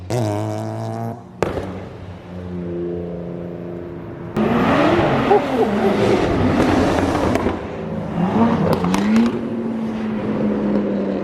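A BMW G80 M3 at a car meet drives past close by, its exhaust roaring loudly with sharp crackling pops and revs that surge and then fade.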